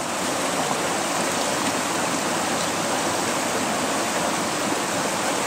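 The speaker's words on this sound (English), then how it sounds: "And I dunk it down in and rinse the tubes out." Water rushes steadily as the tubes of a 3-foot River Bed Hog are dunked and rinsed out, a dense, even wash of splashing that stays loud and unbroken throughout.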